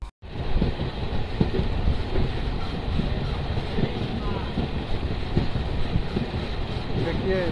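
A Fatuha–Islampur passenger train moving off, steady rumbling rolling noise with heavy wind buffeting close to the microphone, and someone talking over it.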